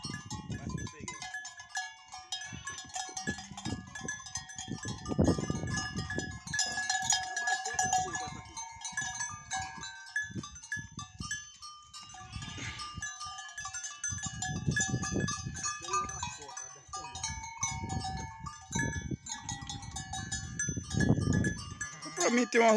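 Sheep and lambs bleat in a flock during deworming and the separating of lambs, with cowbells clanking and people talking throughout.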